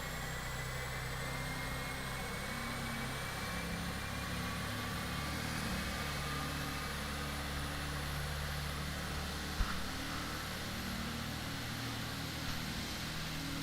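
Boeing 777-200ER engine 2 starting up in the X-Plane 12 flight simulator: a steady, droning engine roar with a slowly rising high whine, continuous and even throughout, with no talking.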